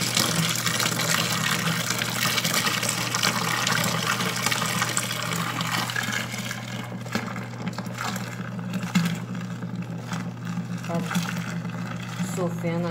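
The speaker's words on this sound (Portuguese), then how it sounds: "vai colocar mais 6 litros agora de água fervendo" Steady gushing of boiling water pouring into a container, about six litres, a continuous rushing flow with faint bubbling, loud and close throughout.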